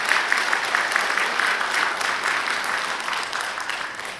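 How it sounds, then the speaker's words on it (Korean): A church congregation at a dawn worship service claps for an elder's health, a full, steady wash of many hands applauding evenly throughout, loud and without voices on top. "우리 장로님 다시 한번 건강을 위해서 크게 박수 한번 해주세요"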